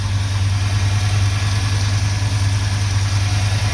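A smoky Dodge engine running on brake cleaner idles with a steady, deep rumbling drone, close by and constant for several seconds, with no talking.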